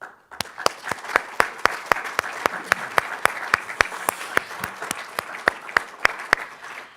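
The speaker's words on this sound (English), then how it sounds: "I just want to start by giving a round of applause to the team" At a screening of the film King Rocker, a small audience claps for the film team; sharp, distinct individual claps stand out in a fairly even rhythm over a softer bed of applause throughout.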